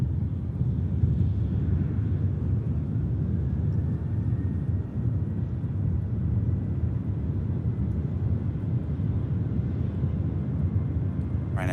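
Ryanair airliner on its takeoff roll at Manchester Airport, a steady broad distant engine roar and rumble holding level throughout with no other sounds over it.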